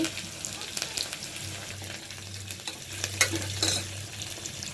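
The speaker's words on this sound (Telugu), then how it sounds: "ఇందులోని ఆనియన్ వేసుకోవాలి కరివేపాకు ఇవన్నీ బాగా వేగాలి" Onions and curry leaves frying in a pan for a stuffed brinjal curry, with a close, steady sizzle and occasional stirring scrapes, no voices.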